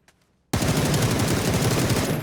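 Rapid automatic gunfire from a weapon in the video game PUBG bursts in after a brief quiet and continues as a loud, dense, sustained stream of shots.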